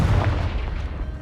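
A Confringo explosive spell in Hogwarts Legacy lands as a single heavy, booming blast with low rumble, loud and close, lasting about a second.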